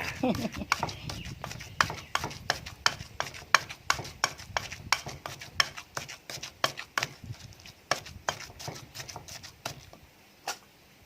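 A wooden mortar and pestle pounding ingredients with a small amount of fish, thudding in a steady, fairly quick rhythm of sharp, close knocks, with someone talking throughout.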